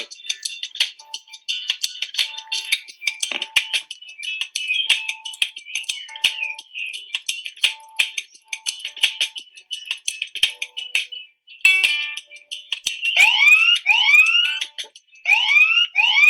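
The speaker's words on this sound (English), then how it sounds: "That is our do now timer." A classroom countdown timer alarm goes off with rapid repeating electronic beeps and chirps that pulse steadily, growing into rising warbling tones near the end, loud and with no voices.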